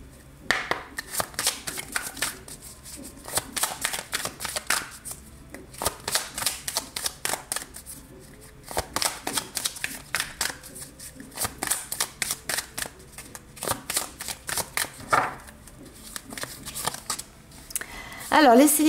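Tarot cards being shuffled for a reading, with repeated riffling and slapping bursts close by, interrupted by short pauses while someone talks over them.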